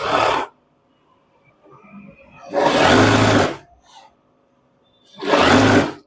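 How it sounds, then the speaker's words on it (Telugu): Sewing machine stitching a pant belt in three loud, close bursts of rapid whirring separated by quiet pauses. "చూడండి, కరెక్ట్గా స్టిచ్చింగ్ చేసుకుంటాండి."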